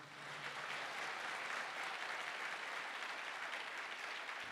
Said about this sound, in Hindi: एक विश्वास करने वाला एक जोरदार ताली